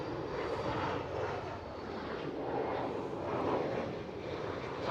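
Embraer E190 airliner at Amsterdam Schiphol airport, a steady distant jet engine roar with broad rushing noise that swells and eases slightly throughout, with no voices.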